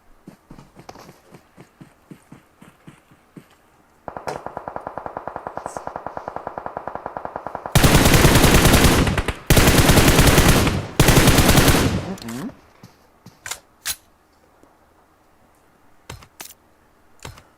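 Gunfire rings out in a ranked shooter video game match: scattered single shots, then a long rapid burst, and then several loud, dense sustained volleys before it thins back to sparse cracks.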